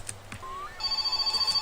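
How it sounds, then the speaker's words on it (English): A telephone rings inside the video game My Summer Car, a near, steady electronic trill that pulses rapidly after a few short game noises, with no talk. "Oh, phone."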